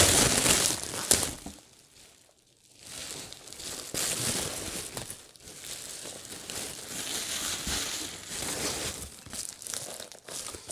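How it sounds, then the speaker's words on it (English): Black plastic packaging is unwrapped up close with bursts of crinkling and rustling. One brief quiet pause comes early on, then the crinkling picks up again, uneven and continuous. "let's unwrap the black plastic first"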